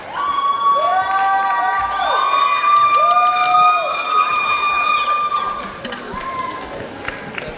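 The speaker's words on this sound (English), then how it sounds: "A round of applause for dancers 407, couple 407." At a Tahitian dance competition, a crowd cheers and shouts with high, whooping voices and some clapping for a dance couple, loud and close, fading toward the end.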